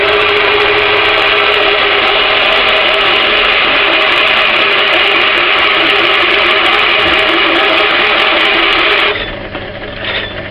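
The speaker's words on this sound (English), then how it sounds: "Now, turn it on and drill down." A hole saw spins and drills into material, giving a loud, steady, high-pitched machine whine that runs continuously before cutting off abruptly, leaving a quieter hum.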